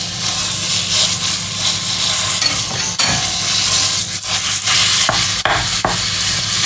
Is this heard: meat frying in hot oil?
yes